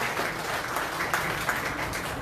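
An audience claps at a Liberty Korea Party appointment ceremony in North Chungcheong, a steady burst of applause from a roomful of people.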